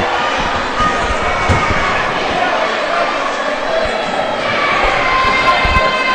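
A large crowd fills a high school basketball gym during a game, a steady loud roar of chatter and cheering, with occasional ball bounces and thumps beneath it.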